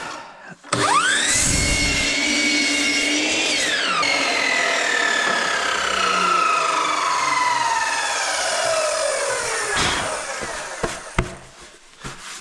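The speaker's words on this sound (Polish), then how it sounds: "I tnę na wymiar." A power saw cuts wooden roof battens to length, its motor revving up loudly, holding a steady whine through the cut, then spinning down to a stop near the end, with faint clatter after.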